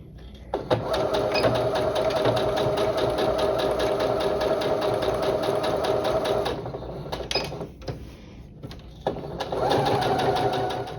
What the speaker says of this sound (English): So I'm going to sew on those drawn lines, back stitching at the beginning and the end to hold all of my stitches in place.